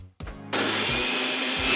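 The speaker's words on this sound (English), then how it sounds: "I've even got a remote for my blender." A household blender switched on by remote control starts abruptly and runs as a loud, steady whir that continues to the end over a soft tonal background.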